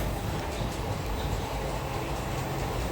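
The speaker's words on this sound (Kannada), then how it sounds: "ಇದು ಪ್ಲಾಟ್ಫಾರ್ಮ್ ನಂಬರ್ ಒಂದರಲ್ಲಿ ನಮ್ಮ ಟ್ರೈನ್ ಬಂದಿರೋದು ಈಗ ಡಿಪಾರ್ಟ್ ಆಗ್ತಾಯಿದೆ" Steady low rumble of the SSS Hubballi–Amaravati Express rolling out from platform one, with continuous rail and carriage noise filling the background and no voices.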